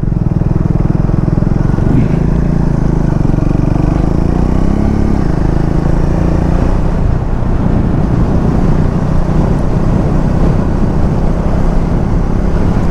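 A car driving along a detour on a narrowed one-way road, its engine and road rumble loud and steady throughout, with brief faint talk inside the vehicle.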